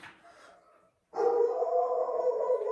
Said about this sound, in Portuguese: Os cachorros estão latindo lá fora.